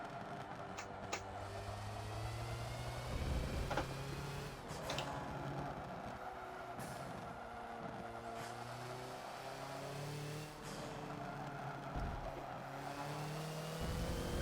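A Hoonigan Ford Focus race car laps Lime Rock in the Forza racing game, its engine revving up and down through gear changes with a steady droning whine, occasional tire squeal, and no talking.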